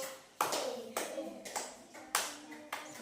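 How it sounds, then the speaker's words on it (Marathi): A child claps hands six times in a classroom counting activity, evenly spaced sharp claps with short pauses, close and fairly loud, with a teacher's voice around them. "सहा सहा टाळ्या वाजव"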